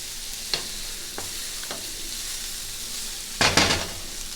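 Shallots frying in a pan over about three-quarter heat give a steady close sizzle, broken by a few light scrapes and clinks as they are stirred, with a louder stirring burst near the end.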